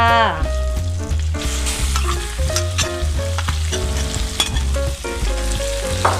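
Pork dropped into hot oil with garlic that is already browning, crackling and sizzling hard in a pan, a dense steady roar broken by stirring scrapes and clatter, close and loud with no voices.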